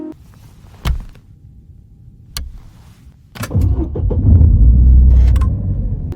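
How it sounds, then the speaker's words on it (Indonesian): A car starter button is pressed: a few faint knocks and clicks, then the engine cranks and catches into a loud, steady low rumble that continues to the end, with no talking. "Ciro iseng-iseng mencet-mencet tombol starter."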